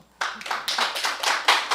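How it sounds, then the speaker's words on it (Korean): An audience claps during a breathing and posture talk, a short burst of group clapping that starts abruptly and pulses unevenly for under two seconds. "박수 한번 주시죠"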